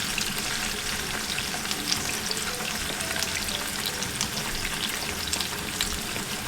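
Pork chops sizzle and caramelise in a hot pan, giving a steady, dense frying crackle and hiss that runs unbroken and close, with no voices.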